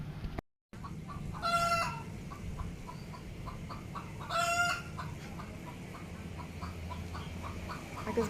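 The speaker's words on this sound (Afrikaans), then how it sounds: "Ek is baie bly hierdie hoender was nie raak gery gewees nie." A chicken clucks steadily in the background while a rooster crows twice, loud and close, somewhere along a roadside in Koh Lanta, Thailand.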